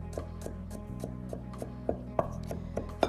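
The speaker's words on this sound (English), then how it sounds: "I have some garlic, which I'm going to give a chop to" Garlic being chopped with a knife on a cutting board during prep for a veal cacciatore: a steady run of crisp, close knocks about every third of a second, alone with no talk.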